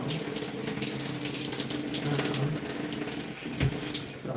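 Water runs steadily from a tap during hair washing, a close, continuous splashing stream with small shifts in the flow.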